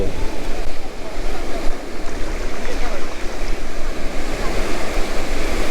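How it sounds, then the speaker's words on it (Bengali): Continuous loud surf pounds the shore at Golden Beach, Puri, a broad roaring wash of breaking waves mixed with wind noise on the microphone, with no gaps or talk. "এখানকার সমুদ্রের গর্জনের এবং সমুদ্রের সুন্দরতার আপনি সৌন্দর্য উপভোগ করুন"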